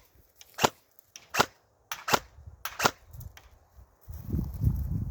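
An EMG KAC KS1 airsoft rifle firing 0.32 g BBs on single fire gives sharp, dry cracks, about six evenly spaced shots close by, followed by some low rustling handling noise.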